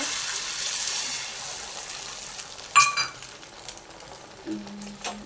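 Beaten egg fries in oil on a hot griddle, giving a soft steady sizzle that fades slightly, with a few brief utensil clinks and scrapes near the middle and end.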